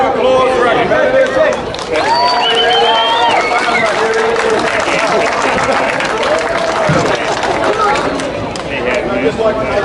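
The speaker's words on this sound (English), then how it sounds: "Ladies and gentlemen, round of applause for our competitors." An outdoor audience at a chilli festival eating challenge applauds the competitors, with clapping blended into loud crowd chatter and cheering voices.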